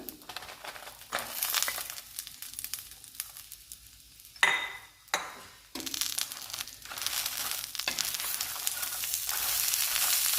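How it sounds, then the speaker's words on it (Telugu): Grated coconut frying in a pan for a dried red chilli coconut chutney, with the stove just switched off: a steady hiss with crinkly stirring scrapes and a couple of brief louder bursts, close and unaccompanied by talk. "కొబ్బరిని కూడా వేయించుకుందాం ఇందులో ఈ వేడి సరిపోతుందండి"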